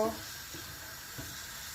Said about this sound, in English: I'm gonna leave it fry for a little while before you add the other ingredients